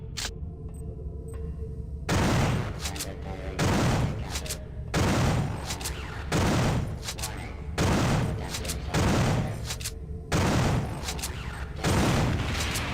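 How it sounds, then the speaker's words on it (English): Shotgun blasts firing buckshot in the video game System Shock 2, seven loud, evenly spaced booming shots about every 1.5 seconds, each with a short ringing tail. "I mean, it's still a shotgun."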